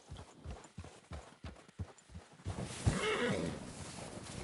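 Horse hooves clip-clop in an irregular, close gait while riding in the Red Dead Redemption 2 video game, joined midway by a denser rush of movement noise and a brief whinny-like cry.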